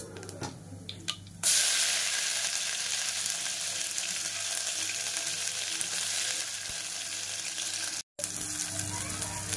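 Ground masala paste sizzles in a pan over a low flame, a steady broadband hiss that begins abruptly after a few early clinks and holds with little change, with one brief dropout.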